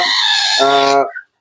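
A young parrot lets out a harsh, raspy squawk up close, then shifts into a more tonal, drawn-out call before stopping abruptly.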